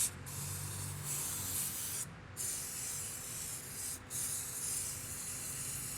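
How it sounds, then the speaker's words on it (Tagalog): Brake and parts cleaner sprayed onto an oil pan in a steady close hiss, broken into three bursts by two short pauses, fairly soft and with no talking. "Sprayan mo ng brake and parts cleaner."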